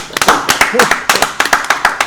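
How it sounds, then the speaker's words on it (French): Studio audience on a live Congolese television broadcast breaks into applause, a loud, fairly sparse run of individual claps with a steady rhythm lasting about two seconds, with a voice briefly heard underneath. "Mais on applaudit, Maxime Pivot."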